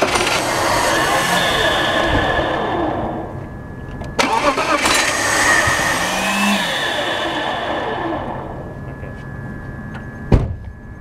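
A 2000 BMW 323ci with a newly fitted water pump and pulley cranks and catches, its engine roaring loudly up close before the revs fall away, with a sharp clunk near the end.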